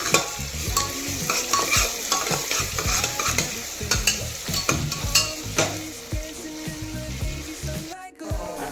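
Ginger-garlic paste stirred into frying onions in a pan for chicken pulao, giving steady close sizzling with continuous scraping and stirring strokes throughout, then a brief pause near the end.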